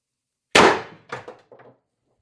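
An X-68 airsoft gun fires a single sharp, close shot, followed by a few fading metallic clacks and rattles.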